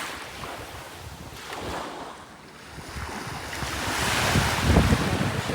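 Sea waves wash onto a beach in Mauritius with reefs offshore, a continuous rolling surf that swells louder toward the end, mixed with steady wind buffeting the microphone.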